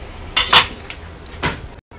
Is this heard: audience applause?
no